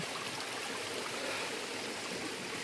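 A stream flowing down a hillside rushes continuously nearby, a dense, steady wash of flowing water with no voices or pauses.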